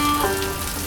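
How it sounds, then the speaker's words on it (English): Rain falls in Ketchikan, Alaska, a steady close hiss of drops on surfaces filling a brief moment with no voices. "It's raining in Ketchikan today."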